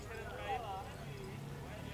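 Horses walking as a group behind the scenes at a vaquejada rodeo in Bezerros, Pernambuco, their hooves clip-clopping steadily at a moderate distance beneath continuous nearby talk and crowd noise.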